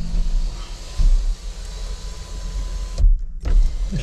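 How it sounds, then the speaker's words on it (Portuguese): The electric sunroof of a Peugeot 2008 electric SUV motors open with a steady whirring hum inside the cabin, a few thuds and clicks along the way, and the motor briefly cutting out before it resumes. "A redinha é manual, mas a abertura é elétrica."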